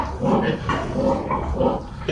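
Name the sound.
pig grunting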